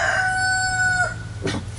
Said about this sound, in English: Yeah, and we have a rooster.